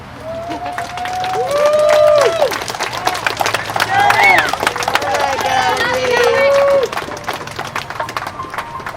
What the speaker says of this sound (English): So go on, applause.